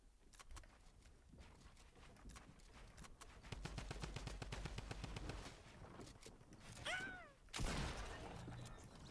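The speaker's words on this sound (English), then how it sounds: "I'm using a drum gun" Rapid, rhythmic automatic fire from a drum gun in a shooting video game, a long sustained burst of close, quick shots, followed by a whooshing effect and a heavy thump, faint overall.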